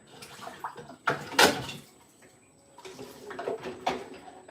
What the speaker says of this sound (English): do end up kind of washing dishes in stages.